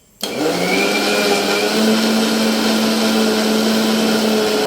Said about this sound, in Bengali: এবার এটাকে মিক্সিতে বেশ কয়েকবার ঘুরিয়ে নেব।